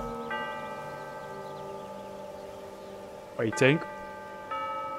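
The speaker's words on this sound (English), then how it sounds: "Nice doorbell ringtone." A doorbell chime in a suburban house in the Hitman 2 video game, a short melodic ding-dong tone pattern heard twice between brief sounds, with a voice speaking briefly.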